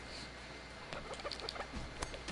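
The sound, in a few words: person imitating chicken noises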